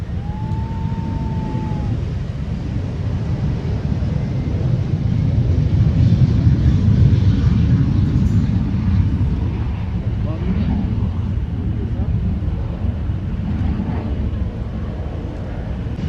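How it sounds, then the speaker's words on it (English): A MiG-15 jet rolling for takeoff, a broad low roar and rumble that swells in the middle and holds steady, heard from a distance at an air show. "The Mig-15, the first of the two jets to roll."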